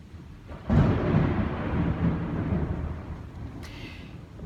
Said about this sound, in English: There's a storm going in around me